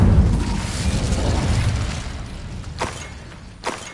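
A fire spell cast in a wizard video game, bursting with a loud whooshing boom that fades into a rumbling tail, followed by two short sharp crackling bursts.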